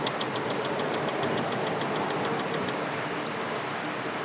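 An engine in a simulator idles at a steady low speed of about 800 RPM, a continuous mechanical drone with faint regular ticking above it, no voices.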